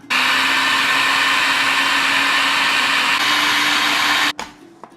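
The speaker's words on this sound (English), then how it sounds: "so I'm just going to continue blending it." A kitchen blender grinds peanuts into smooth peanut butter, a loud steady whirring motor drone running continuously for over four seconds before abruptly switching off.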